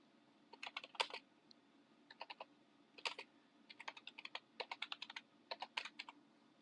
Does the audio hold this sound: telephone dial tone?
no